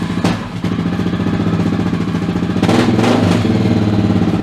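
A motorcycle engine fired up after a handlebar replacement, running with a rapid mechanical putter and a few sharp revs, loud and close.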